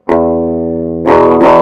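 An electric guitar played through a Danelectro Fab Chorus pedal on the humbucker pickup rings out one sustained note with a slight distorted edge, then two quick, louder strums that break up a little more.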